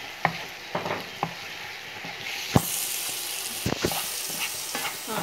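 Masala with chili powder and salt sizzles softly in a pan, a steady frying hiss broken by several sharp scrapes and knocks of a spoon stirring against the metal, with no talking.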